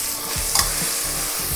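Green peas fry in oil in a pan, sizzling steadily and close up, with a few quick stirring scrapes through the short stretch and no talking.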